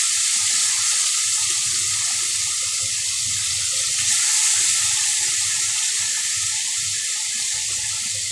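Fish frying in hot oil in a kadai, a steady broadband hiss and crackle running evenly throughout with no talk over it.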